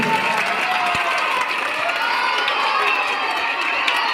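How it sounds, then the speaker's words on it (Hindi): Schoolchildren at SBJM Public School clap and cheer during a Republic Day flag-hoisting event: a loud, sustained crowd roar of young voices over continuous applause, with occasional shouts rising above it. "एक बार जोरदार हाथ ताली आप सभी के लिए"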